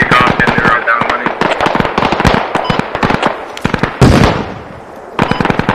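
Rapid bursts of automatic rifle fire in the Squad war game crack in fast, loud volleys with short pauses, including an AK-47, and one heavier blast lands midway.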